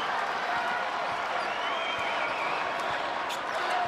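A basketball arena crowd roars and applauds for the Pitt Panthers during an ACC men's game against Virginia Tech, a dense, sustained wall of cheering with scattered claps.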